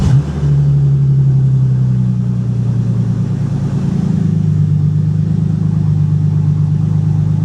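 A Bentley car engine idles smoothly up close, a loud, steady low hum with an even tone that holds throughout, with no one speaking.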